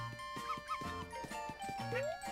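Cute dog yips and whimpers from the puppies in the video game Yoshi's Crafted World, a few short cries in quick succession over bright, tinkling game music.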